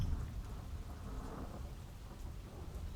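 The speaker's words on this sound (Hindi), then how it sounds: "बारिश देखिए बाहर" Steady rain pours outside with low rumbling thunder rolling underneath, a dense continuous wash of drops heard from indoors, fairly quiet and without any voices.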